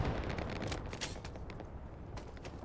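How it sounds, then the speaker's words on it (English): Explosive gunfire from a weapon in Starfield, a dense, continuous rumble of rapid shots and blasts with sharp cracking transients throughout, loud and close with no talking. "this gun has incredible spread with explosives"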